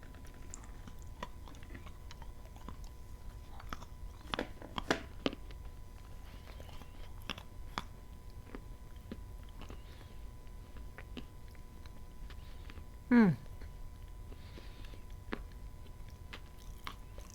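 A dry, crumbly tea leaf of the Sakura sort is bitten and chewed quietly up close, with scattered faint crunches and creaks.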